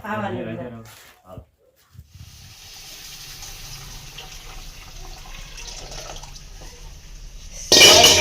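Water pouring into a pan while making sheera, a Gujarati sweet semolina or flour pudding, a steady running hiss lasting several seconds after a voice speaks, ending with a loud sizzling burst.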